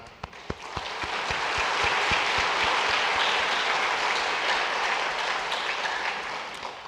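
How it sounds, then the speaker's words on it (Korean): A church congregation claps to welcome a visiting pastor during a Sunday worship service, beginning with a few separate claps that swell into a full, sustained round of applause, then ease slightly near the close. "박수로 환영하겠습니다."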